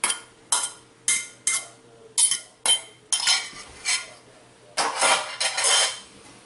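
Canned tuna being stirred into a noodle casserole in a pot, a utensil scraping and clanking against the metal in repeated short strokes, close and fairly loud, with a low background hum between strokes.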